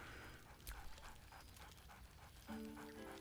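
A video-game puppy panting in a quick rhythmic series of breaths with a soft yip near the start, close and moderately loud over a steady ambient music bed.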